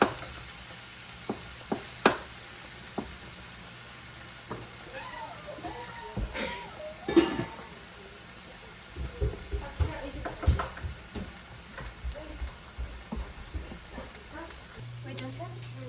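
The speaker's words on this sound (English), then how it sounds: "so the meat is about browned." Ground meat browning in a hot pan for pasta, a soft sizzle under scattered spoon scrapes and clatters that grow busier in the second half, fairly quiet and close.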